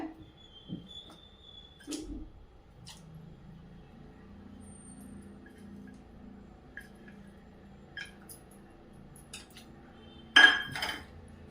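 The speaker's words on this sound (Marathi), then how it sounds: "खालीच विरघळून घ्यायचा गुळ आणि हलवून घेऊया" A spoon stirs jaggery in a metal vessel to dissolve it, giving sparse, quiet clinks and scrapes at irregular intervals, with one louder metallic knock near the end.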